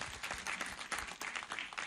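Audience at a university graduation ceremony applauding, a dense, steady patter of many hands clapping close by, lasting under two seconds.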